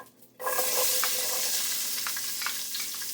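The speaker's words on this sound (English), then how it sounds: "I'm going to leave the bacon grease in there, and then I'm going to go ahead and add onion." One chopped onion drops into hot bacon grease in a pot for corn chowder and erupts into a loud, steady sizzle with faint crackles throughout.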